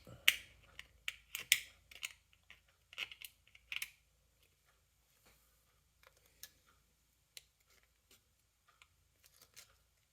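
Snips of scissors cutting into material while repairing a Dinky Mercedes-Benz 220 SE toy car, a quick cluster of sharp close clicks followed by sparse, fainter single snips.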